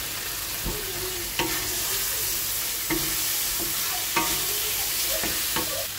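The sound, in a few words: frying and stirring spice paste with potatoes for jute leaf fish curry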